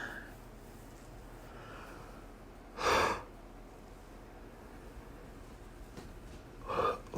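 Two breathy yawn-like exhalations from a person, one around the middle and another near the end, fairly close and soft over a quiet room hum.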